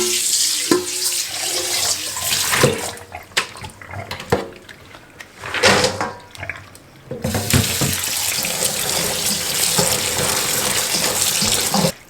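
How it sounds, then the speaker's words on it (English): Green tomatoes and green beans are rinsed in water in a kitchen sink, with a running faucet, splashing and sloshing as they are shaken by hand, ending in a steady strong stream of water. "So I'm going to rinse them one more time."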